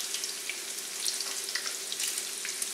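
Egg foo yong omelets frying in oil heated to about 350 degrees, a steady close sizzle with crackling pops and spatter throughout and no talking.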